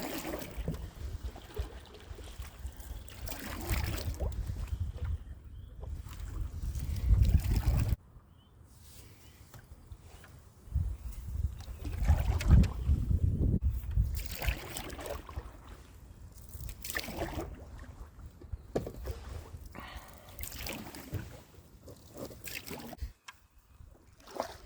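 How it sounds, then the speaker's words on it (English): A canoe paddled on a small lake, with soft watery swishes and dribbles from the strokes at close range, recurring irregularly under outdoor rumble. "We're gonna head out in the canoe and see if we can find ourselves a camp spot."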